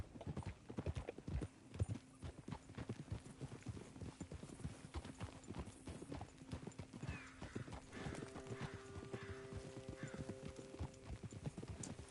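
A horse in a video game trots with rhythmic hoof clip-clops throughout, and a brief whinny and faint voice-like sounds come in near the end.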